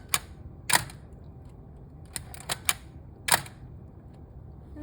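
Nikon F3 film camera shutter being cocked without advancing the film, set for multiple exposures: several sharp, close mechanical clicks and snaps in an irregular sequence against a quiet background.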